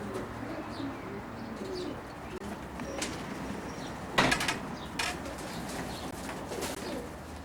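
Racing pigeons from a 1995 young bird team coo softly in a smart loft, low murmuring calls with a few chirps and a brief flutter of wings, no one talking.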